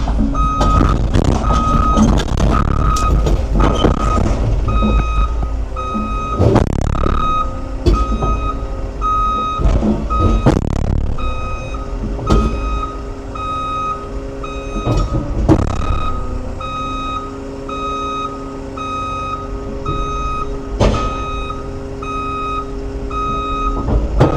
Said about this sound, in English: Thought I could turn that beeping off.